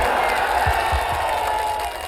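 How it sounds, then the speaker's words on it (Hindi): Crowd applause and cheering at an outdoor political rally of the Mahagathbandhan at Amour High School, a dense steady wash of clapping from a large audience that holds loud throughout and eases slightly at the end. "इतनी ताली बजाओ कि पटना से लेकर के हैदराबाद तक इसकी गूंज जानी चाहिए"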